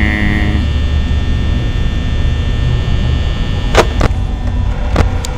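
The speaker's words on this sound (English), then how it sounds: "I wish that fan could be turned off as well because that noise is fucking awful." Steady electric fan hum from the Five Nights at Freddy's video game, a constant drone filling the whole span with a couple of faint clicks near the end.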